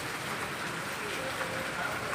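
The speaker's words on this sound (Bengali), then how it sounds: "আর এই বৃষ্টি বৈশাখ মাসে আষাঢ় মাসের মতো বৃষ্টি হয় আমি এই জীবনের প্রথম দেখলাম।" Heavy rain during a pre-monsoon downpour in rural Bangladesh, a dense continuous wash of rainfall with steady hiss and no clear breaks.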